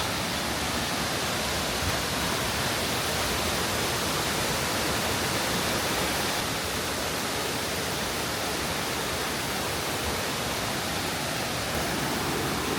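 Continuous loud rushing water from a river in Bali, Indonesia, a dense, even roar like a fast river or stream nearby, with no voices.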